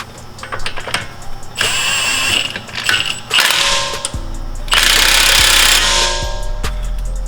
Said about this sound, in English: you can slowly tighten that with an impact.